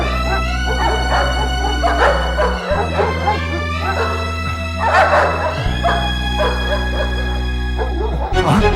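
A dog in a Malayalam film scene barks, yips and whimpers repeatedly over a constant loud background hum and music, close and fairly prominent throughout.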